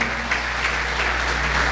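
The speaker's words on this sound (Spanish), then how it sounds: "Denle un aplauso fuerte al Rey de Reyes" Brief burst of dense, loud applause from a church congregation, continuous clapping with no break or voices on top.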